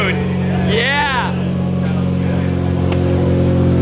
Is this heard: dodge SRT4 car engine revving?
yes